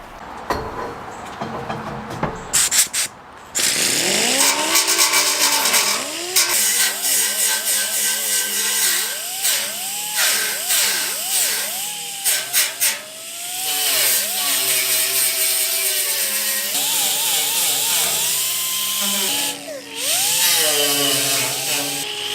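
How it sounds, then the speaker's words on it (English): Power drill spinning a 3-inch roll lock disc against a rusty Datsun 240z gas tank, a loud, continuous whine that rises and dips in pitch as the disc bites and eases off. "That was a 3-inch roll lock. When you clip it on the edge, it starts flinging stuff everywhere"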